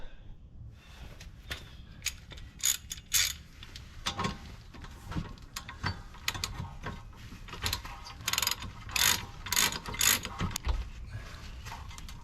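Ratchet with an extension tightening lug nuts on a 2018 Subaru Outback during a wheel stud replacement, giving repeated bursts of close, crisp clicking in uneven runs with short pauses, no talking.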